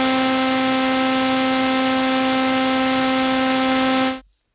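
Loud, steady hiss with a buzzy tonal drone from a Circle2 soft-synth noise and sawtooth patch run through a 2-pole high-pass filter that thins the low end, held for about four seconds before it stops dead.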